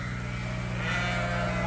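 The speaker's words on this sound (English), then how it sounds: "the sheep at the back of the barn heard the clinking of the food" Sheep bleating in a barn, a sustained nasal bleat from nearby over a low, steady mechanical hum throughout.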